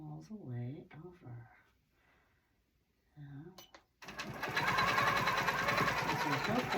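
Sewing machine stitching a diagonal cross-hatch pattern on a quilt, starting abruptly after brief talk and running loud and steady as a dense continuous whir to the end.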